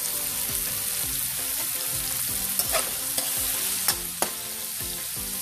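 Food sautés in cooking oil with a continuous bright sizzle, soft repetitive stirring scrapes underneath and a few sharp utensil clicks toward the end, with no voices.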